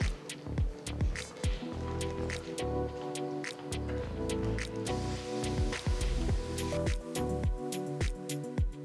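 Tomato paste sautés in a pan over a high flame, bubbling and spluttering with irregular wet pops and squishy splats throughout, close and moderately quiet.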